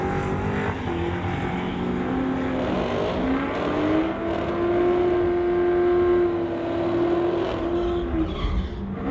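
A street-legal car races down a drag strip lane, with a loud sustained engine note rising as it accelerates and tires squealing, heard over a steady roar of the track with no talk.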